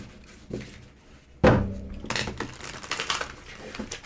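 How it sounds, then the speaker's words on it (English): A deck of tarot cards is handled and shuffled up close, with a sharp thunk followed by a run of dry, crisp riffling and clattering card noise. "We're going to shuffle a couple more times."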